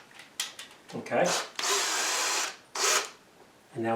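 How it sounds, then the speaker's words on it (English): A power drill whirs in a few close bursts, rising and stopping, biting through wood with a steady high-pitched grind between pauses. "And now we drill through."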